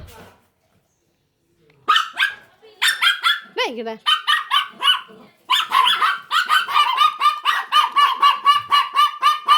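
Several pet dogs bark close by in rapid, excited bursts, with yips and a rising whine, the barking growing into a continuous rhythmic series after a short quiet start.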